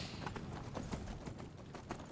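Horse hooves clip-clop in the Skyrim video game, a quick, faint and steady rhythm of hoofbeats on the ground, with no speech.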